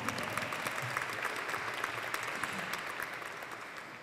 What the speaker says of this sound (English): So applause to that.